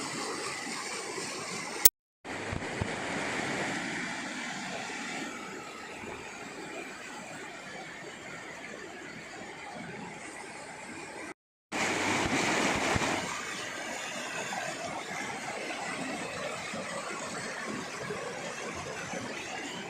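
Steady rushing water of the Holy Gola River during a cold mineral-water dip on a trek, a continuous wash of flow with two brief dropouts, no voices.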